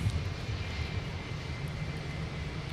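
A jet airliner taxis toward runway 17 for takeoff at Minneapolis–St Paul airport, giving off a steady low engine rumble with a faint high whine. It carries on continuously at moderate distance, with no talk over it.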